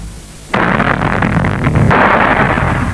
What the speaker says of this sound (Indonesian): Kemudian bagian-bagian yang mengandung biji diledakkan.